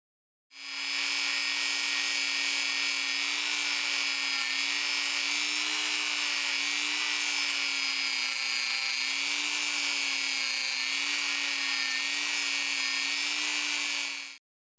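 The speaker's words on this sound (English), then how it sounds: "This one socket had some wear that I blended in with the scrubby wheel." A spinning scrubby wheel blends wear on a worn Shelton ratchet socket, a continuous close whirring hum with a high abrasive hiss that holds steady for about fourteen seconds before cutting off.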